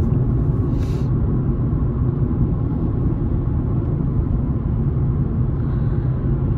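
A Hyundai i20 with a 1.4 MPI engine accelerates on a highway, heard from inside the cabin as a loud, steady low engine and road rumble throughout, with no talking.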